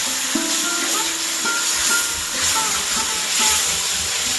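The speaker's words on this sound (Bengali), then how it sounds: "আদা রসুন লঙ্কার আমি মশলা পেস্ট করে রেখেছি এবার আমি এটার মধ্যে দিয়ে দিলাম দিয়ে খুব ভালো করে ভেজে নিব" Ginger, garlic and chili masala paste sizzles and fries in a pan for a fish curry, a steady hiss with occasional stirring scrapes, close and continuous.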